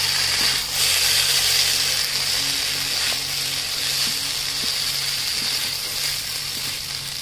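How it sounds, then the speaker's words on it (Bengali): Rice coated in spice paste sizzles and fries in ghee for a sweet yellow pulao, a steady close hiss with faint scraping as it is gently stirred. "এবার মেখে রাখা মশলা, মেখে রাখা চালগুলো দিয়ে দিচ্ছি। আমি 2 থেকে 3 মিনিট হালকা করে নেড়ে নেব"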